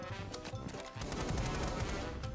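Rapid-fire gunshots from a modified weapon in Rainbow Six Siege, a dense, continuous crackle of shots layered over game noise and clatter, loud and sustained throughout.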